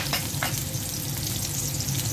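Chopped onion fries in hot oil in a pot, a close, steady, loud sizzle with a couple of quick crackling pops near the start and no voices.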